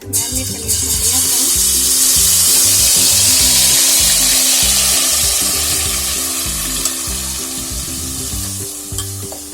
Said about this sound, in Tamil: மேரினேட் பண்ணி வச்சோம் இல்லையா ப்ரான்ஸ் மசாலா, அதை சேர்த்து கலந்துக்கலாம்.